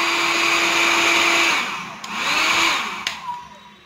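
A Philips HP8100/46 hair dryer whirs loudly and steadily, its pitch dipping and rising as the setting changes, ending with a click.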